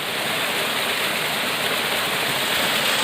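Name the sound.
waterfall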